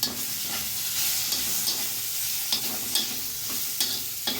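Mango, tomato, onion and garlic with turmeric fry in a pan, a steady hissing sizzle up close broken by regular sharp scrapes and taps of a spoon stirring every half second or so, without speech.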